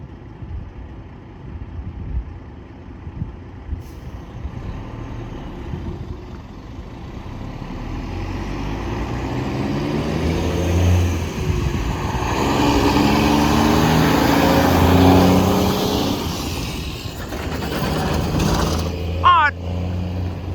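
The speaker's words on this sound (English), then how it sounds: "the semi-truck blocked the view" A semi-truck rumbles past a railway crossing, its low engine drone swelling from a moderate hum to a loud close pass in the middle, then easing, with a short bright clatter near the end.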